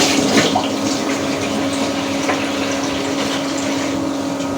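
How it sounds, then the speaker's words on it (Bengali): Plain tap-temperature water pours steadily into a pot of fried lentils, making a loud, continuous rushing gush close by with no voices. "এখন আমি এটাতে পানি দিয়ে দিব।"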